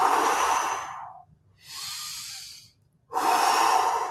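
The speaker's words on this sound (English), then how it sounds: "we do a series of long breaths in through the nose, out through the mouth" Three long, slow breaths, each drawn in through the nose and pushed out through the mouth, rush and hiss up close, with brief silent pauses between them and no talk.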